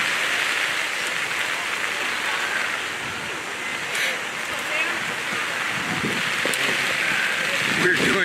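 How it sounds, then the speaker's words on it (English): Steady rain falls throughout a boys' high school soccer match, a dense even hiss that stays loud and constant, with distant crowd noise mixed in. "This is all covered with rain."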